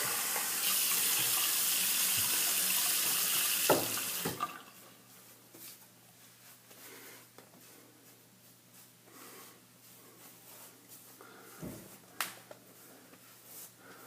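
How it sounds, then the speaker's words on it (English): A tap runs loudly for about four seconds while soap is rinsed from a face after shaving, then shuts off, leaving quiet room tone with a few faint knocks and drips. "Let me rinse this soap off my face real quick."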